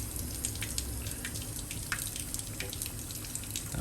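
Water runs steadily through an X-ION Lite reverse osmosis unit used to make pure water for window cleaning. The rushing, hissing flow is close and continuous, with small splashy spikes and no voices.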